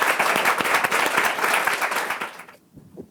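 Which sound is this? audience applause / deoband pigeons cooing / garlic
audience applause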